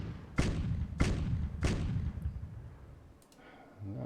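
Artillery strike in the wartime strategy game Decisive Campaigns: Blitzkrieg, three heavy booming thuds about half a second apart, followed by fading rumble and small clicks.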